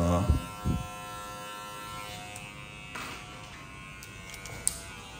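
An electric hair clipper fitted with a number 2 guard fades curly hair, a close, steady buzzing hum throughout, with brief handling knocks near the start.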